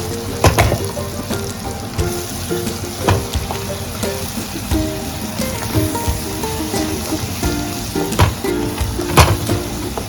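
A raw masala paste roasts in oil for a Maharashtrian prawn curry, a constant bubbling sizzle punctuated by sharp spoon-on-pan clicks and stirring knocks, over background music.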